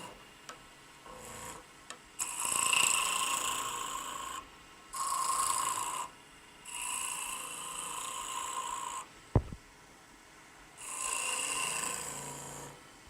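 Spindle roughing gouge cutting wood on a lathe, a steady rasping hiss coming in several sustained bursts with short pauses between them, near and fairly loud, with one sharp knock partway through.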